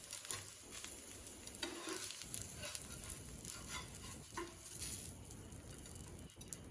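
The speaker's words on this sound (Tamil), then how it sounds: "தோசை ஊற்றிப்போம். இப்போ பரட்டி விட்டுப்போம்." Onion rava dosa batter sizzles on a hot pan with a steady, faint crackling hiss, broken by occasional light scraping and tapping sounds close by, and no voices.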